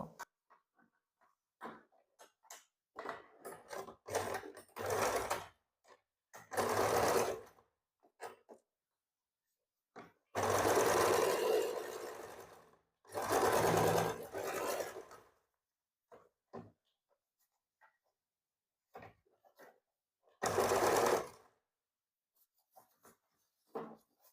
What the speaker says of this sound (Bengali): এবার এটাকে সোজা করে সেলাই করব।